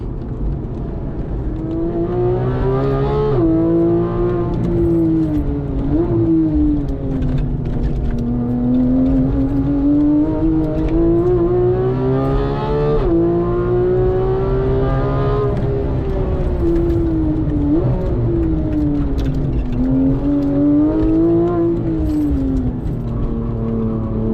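Porsche 991.1 GT3 flat-six at sustained high revs on a race track, a loud continuous wail rising and dipping with repeated upshifts and lifts through corners, close and steady for the whole run.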